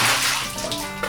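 Splashing of water as someone washes their face in a pool inside a cave, a brief close sloshing burst that tapers off.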